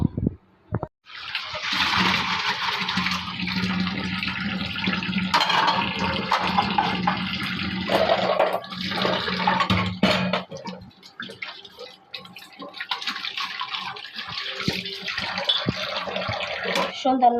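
Plates and bowls being rinsed under a running tap in a home kitchen, with a steady rush of water, clinks and splashes that continue almost without a break and drop off briefly near the middle.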